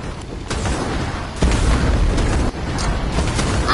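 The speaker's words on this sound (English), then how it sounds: "Oh! Grenade!" Grenade blast in a video game, heavy booming rumble with a loud burst near the middle and another thud later, dense and continuous with no clear voices.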